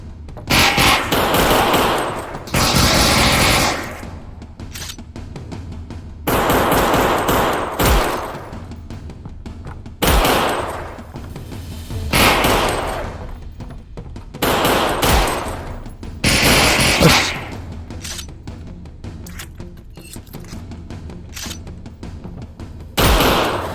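Bursts of rapid automatic gunfire from a VR shooting game come in repeated loud volleys separated by brief quieter gaps, with thuds mixed in.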